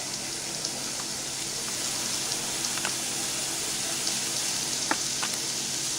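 Water pours into a pan of rice on a home stove, a steady broad rushing hiss with a few faint clinks, moderately close and without talk.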